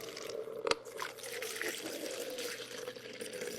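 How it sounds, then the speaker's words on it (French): Water is poured onto coarse aggregate and fine material of equal weight, a continuous close splashing and trickling pour with one sharp splash near the start. "On verse une quantité d'eau identique sur un gros élément et sur du matériau fin de même poids."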